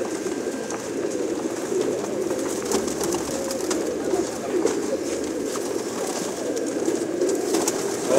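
A dense, steady chorus of many pigeons cooing together inside a pigeon shop with coops, a continuous low warbling murmur that goes on without pause.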